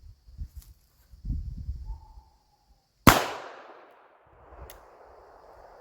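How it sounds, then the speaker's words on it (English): A .32 backup pistol fires 71 grain ammunition at close range: one sharp, loud report with a ringing decay, preceded by quiet handling bumps. "So I'm going to load this guy up, and we're going to get some rounds through it."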